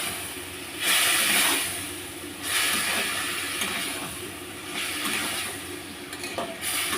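Spice paste in a pan sizzles after a little water is added, rising into several louder hissing surges as it is stirred, with quieter frying noise between the bursts.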